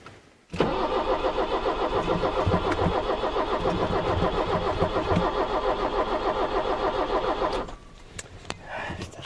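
A diesel car engine cranking and struggling to start, a loud continuous rhythmic churn of the starter lasting several seconds before cutting off, then faint clatter and quiet afterward.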